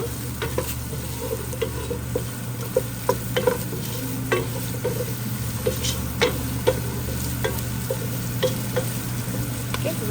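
Bottle gourd pieces fry in a pan for mutton dalcha, giving a steady close sizzle with regular sharp taps and scrapes of a spoon stirring them, and no voices.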